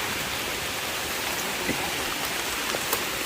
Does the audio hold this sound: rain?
yes